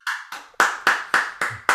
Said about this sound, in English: unmute yourselves just for a second and applaud these people